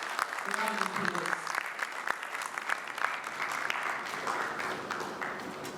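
A crowd claps at the Polaris Bank VULTe unveiling event, a sustained round of applause that stays even and full, briefly overlapped early on by a speaker's voice before thinning slightly toward the end.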